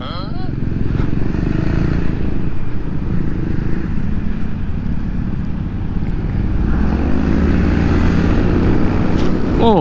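Yamaha XMAX scooter ridden through city streets, a steady engine drone with wind rush and traffic noise running continuously throughout, with a voice talking over it.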